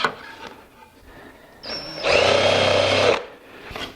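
A drill countersinks a screw hole in wood, a single loud, close burst of whirring and grinding lasting about a second, with quieter handling noises before and after.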